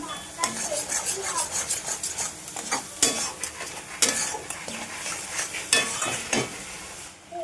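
Spices being fried and stirred in a pan while cooking fish curry, with a steady sizzle broken by repeated sharp clinks and scrapes of a spoon against the pan, close and moderately loud.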